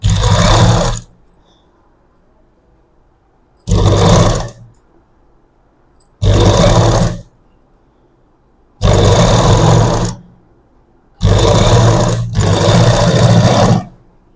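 A sewing machine stitches a puff sleeve in five loud, close bursts of rapid whirring, each about a second long with quiet pauses between, the last burst longer and briefly broken.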